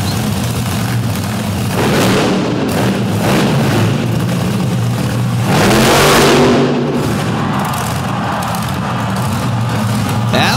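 A big Ford truck engine revs loudly inside an indoor arena at a demolition derby event, the roar echoing under steel rafters over a crowd, surging and swelling for several seconds.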